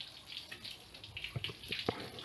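Water splashing and trickling while a blanket is washed at home, with soft intermittent splashes and a couple of sharper slaps over a steady wet hiss, fairly close.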